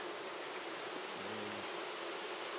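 Honeybees buzz in a steady, dense hum at an opened hive in late summer, a continuous close drone with no talking.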